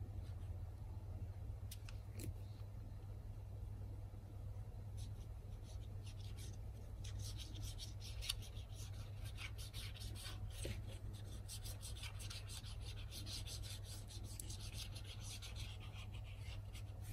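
Glue is spread across paper for a handmade Paris-themed photo album, a soft continuous rubbing and rasping close by, broken by scattered light scratchy strokes over a steady low hum.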